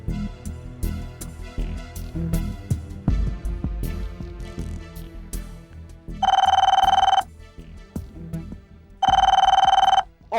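A telephone bell rings loudly in two long bursts, separated by a pause, over a background of music with plucked notes, in a TV drama scene.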